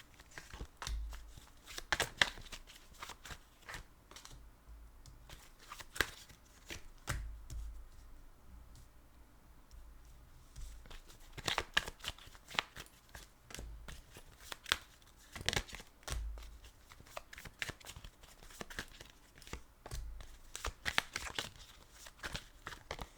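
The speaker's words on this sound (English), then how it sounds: "I'm just going to lay out the cards." Tarot cards are laid out for a reading, making faint, intermittent flicks, soft slaps and papery rustles in scattered bursts against a quiet room.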